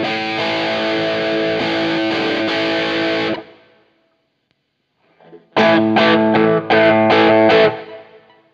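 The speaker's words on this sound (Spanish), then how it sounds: "tendremos una señal mucho más potente que al mismo tiempo la vamos a saturar, y lo que tendremos es bastante más saturación" An electric guitar runs through a DryBell The Engine boost and distortion pedal: a loud, saturated sustained chord rings for about three seconds, cuts to silence, then returns as a series of chugging distorted chord stabs.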